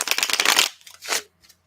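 A deck of tarot cards is riffled in a rapid, fluttering burst, then a shorter second riffle and a soft final tap as the cards are squared, close and clear with no talking.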